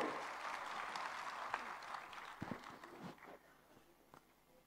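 Audience at a state-level panchayat conference in Panchkula, Haryana, applauding the chief minister's arrival with a scatter of claps that starts fairly full and thins out over several seconds, heard at a distance.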